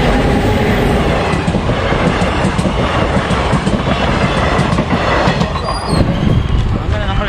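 A long goods train rumbles steadily past close by, wheels clattering over rail joints with a continuous heavy roar and occasional metallic squeal.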